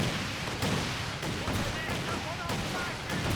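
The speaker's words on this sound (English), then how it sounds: "Seems like Tokai focused on getting the land mattress." Land Mattress rocket artillery firing in Company of Heroes 2, with a dense, continuous barrage of booming launches and blasts rolling on with no break.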